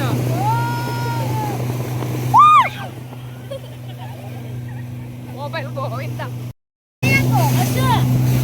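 A motorboat engine drones steadily on the lake at Ooty during a boat ride, a constant low hum with chirpy voices and chatter over it and a brief dropout near the end.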